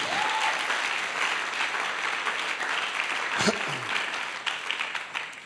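A congregation at a church sermon applauds steadily in a dense, continuous wash of clapping with a few brief voices and shouts rising over it.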